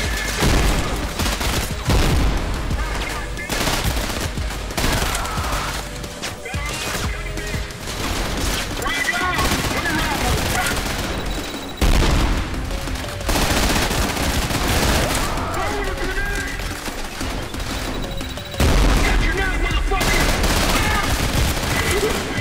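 Frag grenade and mine explosions with dense rapid gunfire in the shooter game Trepang 2, a loud continuous barrage of booms and automatic fire throughout, with a voice talking over parts of it.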